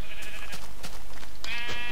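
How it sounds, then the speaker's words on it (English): Sheep bleat in a Minecraft-style survival game, a couple of wavering cries rising over steady game background noise with no talk. "I found two sheep."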